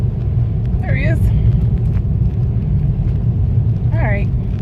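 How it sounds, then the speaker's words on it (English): A car approaches on a snowy road in 2016 blizzard whiteout conditions, a steady low rumble throughout, with a couple of short voice-like sounds on top. "Oh, there's a car coming."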